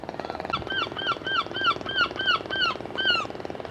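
A gull squawks in a series of about nine loud, repeated calls at an even pace, close and clear, on a coastal path between Holywell Bay and Newquay.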